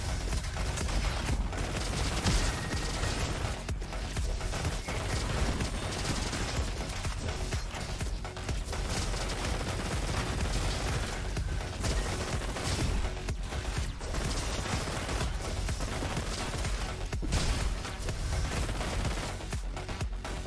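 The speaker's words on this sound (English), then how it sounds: "There's a Gatling gun over there." Sustained rapid Gatling gun fire from the video game Roboquest, a dense, continuous mechanical roar of overlapping shots running loud and steady throughout with little variation.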